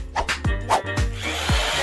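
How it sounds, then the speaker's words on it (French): A power drill whirs in short bursts in a lively cartoon-style household scene, with several quick revving pulses and a few sharp tool-on-wood noises, close and fairly loud, with no talking. "En fait, elle a une perceuse pour t'aider."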